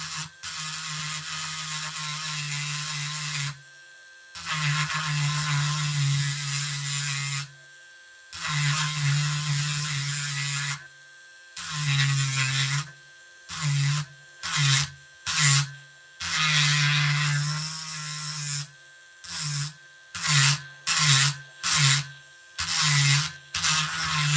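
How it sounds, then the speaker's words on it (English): A small Dremel rotary tool grinds down the blade of an old Ka-Bar knife during restoration, a steady buzzing whine in repeated bursts, long passes early on giving way to short quick touches, with brief silent gaps between. "I'm impressed with the power of this wee Dremel."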